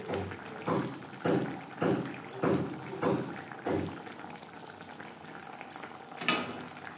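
Chopped coriander being stirred into simmering bele fish curry gravy with mustard paste, a series of about six soft wet scraping strokes at a regular pace, then a quieter bubbling simmer and one last clink.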